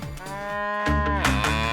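A cow lows in a long, loud, close moo with a rising and falling pitch, sounding alone with no voices. It belongs to a cattle segment where a cow's strength powers the grinding of flour into noodle dough.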